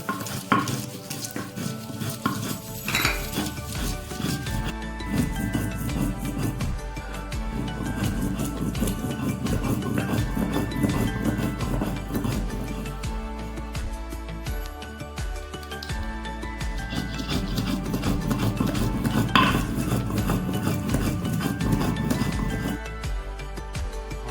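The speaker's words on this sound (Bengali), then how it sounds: "এবার ঠিক আমরা সেরকম ভাবেই রসুনটাকে বেটে নিচ্ছি।" Garlic being ground by hand for a Bengali-style chicken kasha, heard as a steady, loud scraping and rubbing with continuous dense texture and occasional clinks, no talking.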